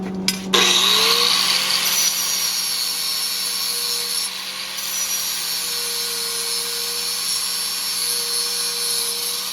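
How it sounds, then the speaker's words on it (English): A wire wheel spins steadily against a blacksmith-made railroad spike fireplace poker, giving a continuous whirring grind with a sustained motor tone after a brief start-up, close and loud with no talking. "We're just going to wire wheel it, do a bunch of cleanup on the poker"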